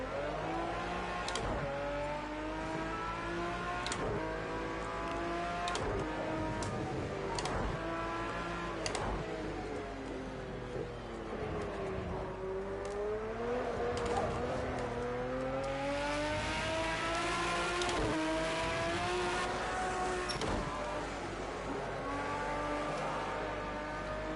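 A race car engine at Le Mans revs and shifts repeatedly, rising and falling in pitch, loud and close throughout with no talk.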